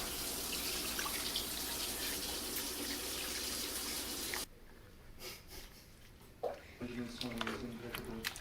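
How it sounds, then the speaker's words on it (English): Cans of water are poured into a pot of massaman curry with zucchini, potatoes and carrots, giving a steady rushing splash for about four seconds. Quieter clatter and speech follow. "I'm going to do a couple cans of water."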